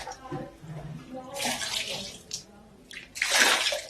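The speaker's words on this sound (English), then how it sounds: "Always make sure you wash your hands in the kitchen to avoid food contamination." Running water from a kitchen tap splashes over hands being washed while cooking mashed potatoes, with bursts of broadband spray, a short pause, then a louder, fuller rush near the end, alongside faint speech early on.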